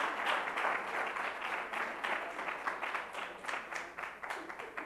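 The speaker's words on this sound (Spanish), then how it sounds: "Y un aplauso muy fuerte para ella." An audience at an awards gala for a nativity scene and Christmas tree contest breaks into sustained applause, dense steady clapping from a crowd that gradually thins toward the end, heard alone without talk.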